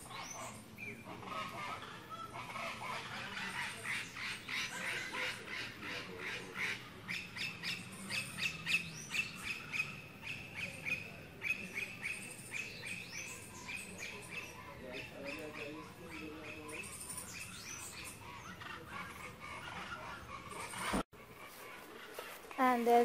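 A cocorico, the national bird of Tobago, calls outdoors at Fort King George with repeated harsh squawking phrases running through most of the stretch, while people talk over it nearby.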